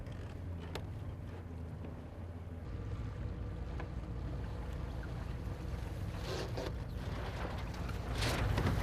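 Water rushes and sloshes against the hull of an International Moth sailboat moving through waves under steady wind, with waves washing louder in bursts toward the end.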